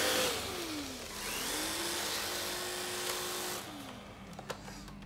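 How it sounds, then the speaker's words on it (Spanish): A Nilfisk Easy cordless stick vacuum, a two-in-one sweeper and vacuum, whines steadily close by. Its pitch dips as the motor changes speed, then it winds down near the end, followed by a few faint clicks. "lo que estamos viendo con Luciano es una máquina 2 en 1, es barredora, aspiradora"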